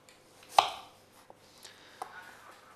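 A knife slices onion thinly on a cutting board, starting with one sharp, loud chop and followed by a few fainter, scattered cuts. The room is quiet apart from the cutting, and no one talks.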